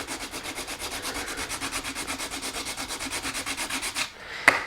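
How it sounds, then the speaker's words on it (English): A sanding block rubbing over body putty on a model car body, a close, quick, even rhythm of back-and-forth scratchy strokes that stops near the end with a small knock. "I can just keep sanding the outside of this putty"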